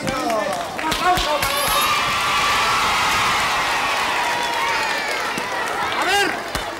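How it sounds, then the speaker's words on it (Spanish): A studio audience at a televised circus show with clowns applauds and cheers, a loud mix of clapping, shouts and whistles swelling for several seconds, with occasional sharp thumps and voices mixed in. "¡Un aplauso!"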